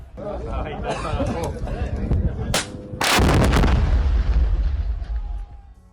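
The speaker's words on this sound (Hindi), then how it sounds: "बमबारी की गई, रिहायशी सोसाइटी की खाली इमारतों को उड़ाया जहां पर हमास ने अपना ठिकाना बना रखा था" Israeli army bombardment of Hamas positions in Gaza, with loud artillery blasts and gunfire, one sharp crack followed by a big booming explosion that rolls away, over a busy noisy background.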